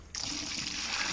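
Rainwater pours into a bucket sieve with a sudden start, then becomes a steady, close, hissing rush of splashing liquid that does not let up.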